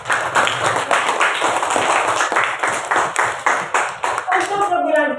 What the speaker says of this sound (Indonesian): ya tepuk tangan dulu untuk temannya